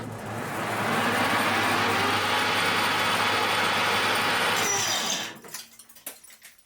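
A lathe parting tool cuts into metal at 800 RPM with a 0.2 mm feed, a loud, steady grinding hiss for about five seconds that stops abruptly, followed by a few light clinks.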